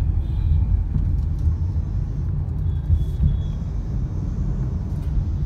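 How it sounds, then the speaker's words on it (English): A Mahindra XUV300 turbocharged petrol SUV drives in second gear through traffic, giving a steady low engine and road rumble from inside the cabin with no one speaking. "second gear is all you would need for driving the XUV 300 in traffic"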